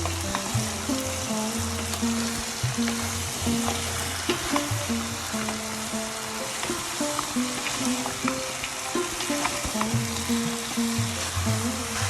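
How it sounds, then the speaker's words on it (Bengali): Duck meat being mixed with spices in a frying pan, with a constant sizzle broken by repeated scraping and stirring knocks as the meat is turned, over a soft melodic backing and no speech. "এখন ভালো করে আমি মিক্স করে দিব।"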